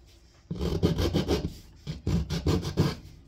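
Coarse strokes of a hand rasp on wood, close and loud, come in two rhythmic runs of quick scraping pushes, each run preceded by a brief quieter stretch.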